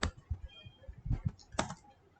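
Several quick keystrokes on a computer keyboard, irregular clicks and taps spaced across a couple of seconds, close but fairly quiet, with no voices.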